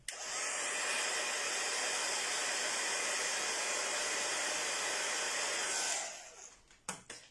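A hair dryer blows on wet paint in a steady, loud, close hiss that runs for about six seconds, then cuts off and leaves a few faint handling knocks.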